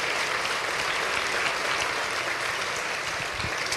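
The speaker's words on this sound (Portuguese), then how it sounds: "Dê uma forte salva de palmas para Jesus." A church congregation applauds during a service, a dense continuous wash of many hands clapping at once, steady and loud for several seconds with no voices standing out.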